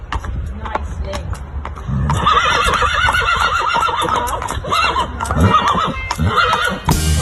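A stallion going to stud for the first time gives loud, close whinnies and neighs in repeated bursts, with hoof clatter and handlers' voices in the background.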